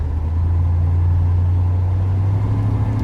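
A 1969 CHP Dodge Polara with a 440 engine drives along with a steady, loud low engine drone and hum, continuous and unbroken with no talking.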